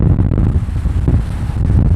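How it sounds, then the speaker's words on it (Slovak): Strong wind blowing by the sea on a beach in Hurghada, Egypt, loud low buffeting rumble battering the microphone in uneven gusts throughout, with no talk. "Dosť to fúka"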